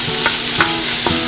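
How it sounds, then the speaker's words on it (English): A spoon stirs and breaks up ground turkey frying in a pan, giving close, loud sizzling with three quick scraping strokes at a brisk rhythm, with no voices. "I'm going to take this spoon, I'm going to stir it around, let it break up"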